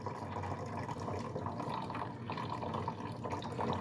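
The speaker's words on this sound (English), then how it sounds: "Pour that all in there, that 1 gallon, that 1 pot of brewed tea of over 4 bags." Brewed hot tea from a pot made with four bags pours into a one-gallon container, a continuous close splashing and gurgling stream of liquid.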